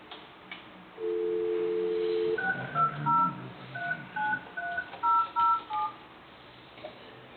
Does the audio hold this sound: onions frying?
no